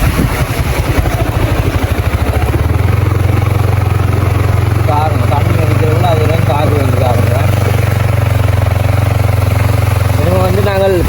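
A motorcycle engine revs up and then drones steadily as it rides through a flooded area of Jaffna, Sri Lanka, close and loud, with voices talking over the engine noise.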